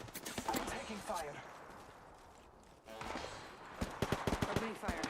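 Video game gunfire, with bursts of rapid sharp shots at the start and again near the end, separated by a quieter stretch, while a voice talks underneath.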